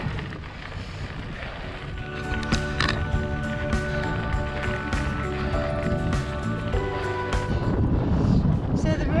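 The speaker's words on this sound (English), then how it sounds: "we are fighting a wind" Strong headwind roars across the microphone while cycling on a desert road in the Chihuahuan Desert, a loud, continuous buffeting rumble with gusty swells throughout and no talking.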